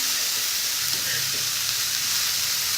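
Cabbage and other vegetables for chowmein stir-frying in a pan produce a steady, hissing sizzle with a faint stir or two, continuous and fairly loud, with no voices.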